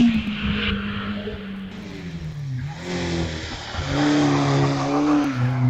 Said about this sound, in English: That's way off the line from class T3, the very rapid Caterham 7 in the hands of Paul Reynolds